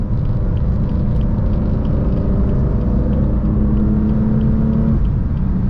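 A BMW M4 CS accelerates hard in sixth gear from around 3,000 rpm, heard from inside the car as a loud, steady, low engine drone with a slowly rising pitch and constant road rumble.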